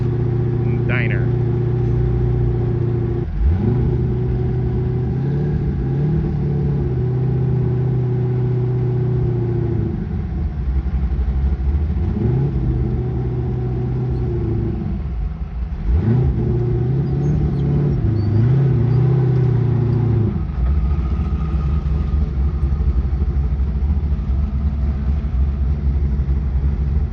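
Off-road rigs cruising toward a diner at night, a steady mid-range engine rumble with gear shifts and rises in revs, heard from inside or close by with a faint voice under the drone.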